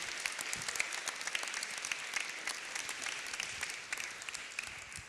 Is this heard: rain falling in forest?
no